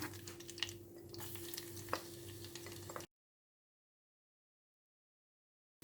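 Four cloves of grated garlic frying in hot butter in a pan, a soft steady sizzle with faint stirring scrapes under a low hum, lasting about three seconds before cutting to silence.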